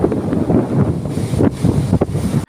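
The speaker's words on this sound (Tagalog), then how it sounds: "Dagat na may konting bagyo." Stormy sea with strong wind buffeting the microphone and waves surging and crashing, loud and close, in continuous gusty bursts with no voices.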